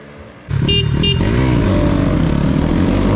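Bajaj NS200 motorcycles in a drag race burst into a loud, close engine roar after a quiet moment, with short revving blips as gears shift before settling into a sustained high-revving howl.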